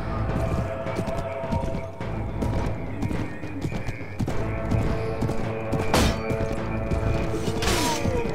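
Horse hooves clip-clop at a gallop in the Mount & Blade: Warband game, with whinnies and neighs over a busy battle din of clashing mechanisms, loud and continuous throughout.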